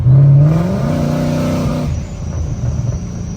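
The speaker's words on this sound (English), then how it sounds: "give it a little juice now so you can hear that the exhaust is open." A loud engine rev from a supercharged Ford Mustang with its valved exhaust open, raspy and rising, then falling away into a lower rumbling idle.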